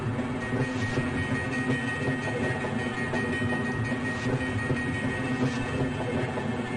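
Train ride in the Half-Life video game, a continuous rumbling rail car with steady droning hum and faint rhythmic clatter of wheels on track, loud and unbroken throughout.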